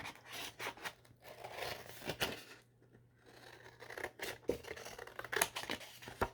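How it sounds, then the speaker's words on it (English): Scissors snipping through paper to cut out the front and back pieces of a craft tag, a string of quick, close crisp cuts with brief pauses and paper rustling, no voices. "You're going to cut out the front and the back."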